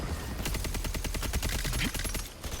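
Rapid automatic gunfire from the online shooter Concord, a dense burst of evenly spaced shots running almost the whole time at steady loudness, with only a brief gap near the end.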